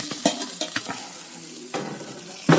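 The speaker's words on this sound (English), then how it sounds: "Alright, I'm just going to flip it over." Salmon fillet being flipped in an air fryer basket, with a few short scraping, clattering handling sounds and a light sizzle underneath, ending in a louder clank.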